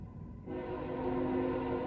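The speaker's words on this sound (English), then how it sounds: "Oh, there's the train now." A train passes at a distance with a long, steady horn blast rising over rumbling rail noise, loud and sustained throughout.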